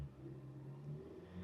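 A 2014 Hyundai Tucson with a 2.4 GDI engine and a stalling problem is revved from inside the car. The engine gives a faint, low, steady hum that rises slightly in pitch as it is raised.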